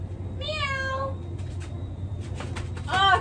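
A person imitates a cat, giving two drawn-out meows: one early, then a sharper one at the end, over a low steady background hum.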